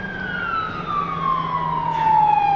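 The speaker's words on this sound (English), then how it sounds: "It's a fire truck." A fire truck siren wails steadily in the distance, its pitch sliding slowly downward as it passes, fairly loud and alone.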